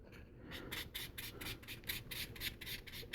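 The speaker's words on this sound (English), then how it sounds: "lots and lots of sanding with resin" Resin piece being sanded with a sanding sponge, a steady series of quick rasping strokes repeating about every third of a second, close and fairly quiet, with no talking.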